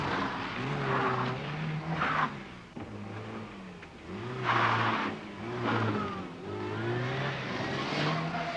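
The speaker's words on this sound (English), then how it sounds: "Martin hasn't mastered the technique of a full throttle, non-stop, 360-degree sliding turn" A 1984 Austin Rover rally car at full throttle through a 360-degree sliding turn, engine revving and surging in repeated waves with tyre noise, loud and close throughout.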